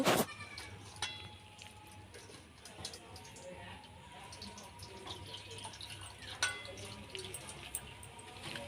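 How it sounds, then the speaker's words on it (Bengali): Pumpkin flowers washed in water, with quiet splashing and dripping, soft handling sounds and a few faint clicks in a calm village setting. "ফুলগুলোকে বেছে নেওয়ার পরে এবার আমি জল দিয়ে ভালো করে ধুয়ে নেব।"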